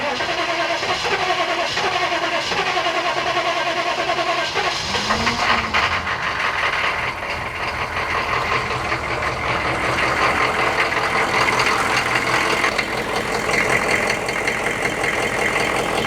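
An engine cranks and catches, then settles into a steady, loud idle, with the hood open and the coolant system checked for pressure during a pre-trip inspection.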